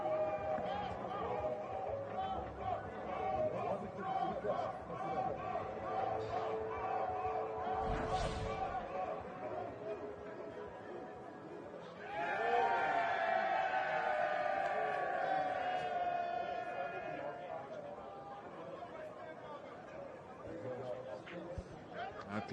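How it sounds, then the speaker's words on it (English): Cricket crowd in Castle Corner during a Nepal versus West Indies World Cup Qualifier match in 2023, a broad stadium hubbub that swells into a louder, sustained cheer over a no ball, with commentary voices running underneath. "So you'll hear a little crescendo down there in Castle Corner, because I don't think there's anything behind the line. Listen to the crowd."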